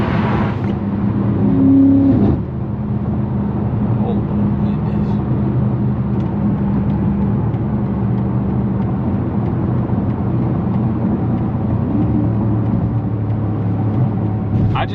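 A BMW F90 M5 on the road, heard as a steady low engine and road drone from inside the car, with a brief swell of revving near the start.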